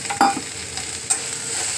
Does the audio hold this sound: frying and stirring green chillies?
yes